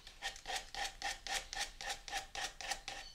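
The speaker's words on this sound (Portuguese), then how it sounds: "Só passando a lixa aqui" Sandpaper rasps back and forth over a resin keychain to remove excess resin, about a dozen even, rhythmic strokes, close and quiet with nothing else heard.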